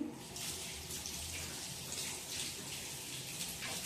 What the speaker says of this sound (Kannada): ಮೊದ್ಲಿಗೆ ಒಂದ್ ತೊಳ್ಕೊಂಡು ಅದ್ರ ಇನ್ನೊಂದ್ಸರಿ ತೊಳೆದೇ ಬಿಡ್ತೀನಿ